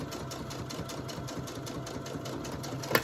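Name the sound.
sewing machine back stitching fabric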